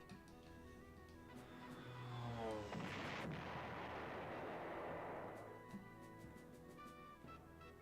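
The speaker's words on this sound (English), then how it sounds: "There's definitely enemy artillery back here." Enemy artillery fire in the retro strategy game Panzer General: a faint, muffled rumbling barrage swells and fades over a few seconds, beneath quiet ticking game sounds and a low background hum.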